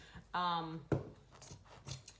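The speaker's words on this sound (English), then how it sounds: "I'm just going to take my scissors and just cut the tumbler, or cut the fabric from the tumbler" Scissors snip fabric away from a tumbler in a few short, crisp cuts, heard close and faint. A person talks over and between the cuts.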